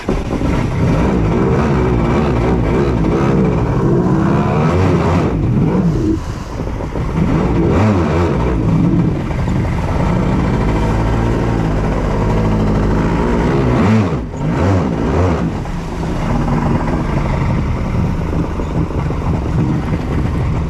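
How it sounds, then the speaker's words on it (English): A Hyper HX 1200 SeaRunner engine that had been flooded runs continuously and loudly, revving and surging with a slight dip partway through, heard alone without voices. "I'm gonna give it a little run to try to clear it out"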